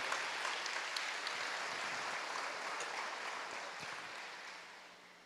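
Church congregation applauding for several seconds, a dense wash of clapping that holds steady and then gradually fades.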